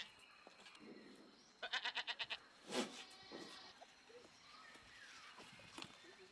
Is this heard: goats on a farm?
yes